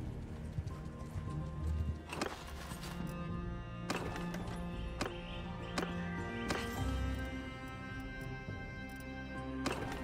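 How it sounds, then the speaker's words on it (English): Horse hooves clip-clop through a Mount & Blade II: Bannerlord video game scene, with several sharp hoof strikes and a faint whinny over a steady bed of game ambience and music, with no talk heard. "Horses are here."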